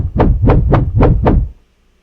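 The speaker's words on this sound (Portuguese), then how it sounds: "Aí também tem esses whooshes para as placas se mexendo." Five evenly spaced whooshes for large stone plates moving, each a quick swelling rush that fades, loud and close, followed by near silence.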